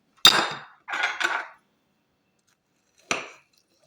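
Cutlery cuts into a strawberry ice cream dessert, making three short, sharp scraping and tapping strokes separated by silence, close and clear.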